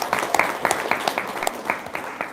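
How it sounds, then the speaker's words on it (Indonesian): An audience claps by hand in a loose, uneven patter of distinct, fairly close claps, suggesting a small group, with each clap standing out briefly before the next. "Tepuk tangan dulu dong."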